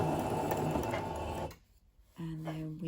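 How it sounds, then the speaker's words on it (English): Sewing machine stitching a seam on a dress, a fast close mechanical whirring run that stops briefly and then restarts at a steadier, more tonal pitch. "we're just going to do a couple of stitches"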